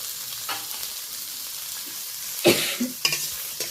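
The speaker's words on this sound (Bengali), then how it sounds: "চিংড়ি মাছটা ভেজে নেব" Shrimp fry in a pan with soft, low sizzling, broken by a few sharper stirring scrapes and clatters near the end.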